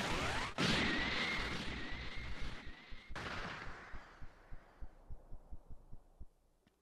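Special Beam Cannon attack in the video game Dragon Ball Sparking Zero: a loud blasting energy beam with a sharp high whine, a second burst, then a rapid series of rhythmic thumping impacts that fade out.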